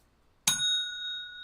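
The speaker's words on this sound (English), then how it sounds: "So it was kind of a lame bell ring, Andrew." A single bright bell ring strikes once after a short silence. Its clear ringing tones linger and slowly fade over about a second, with nothing else around it.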